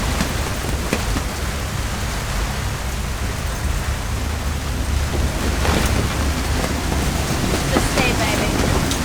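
Heavy storm rain and wind at sea lash a catamaran in a dense, constant roar that stays loud throughout, with no clear breaks.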